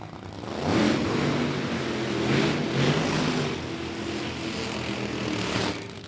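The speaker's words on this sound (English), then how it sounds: "Side-by-side burnouts." Drag racing cars doing side-by-side burnouts at the California Hot Rod Reunion, a loud, sustained roar of engines with surging swells, heard without talk.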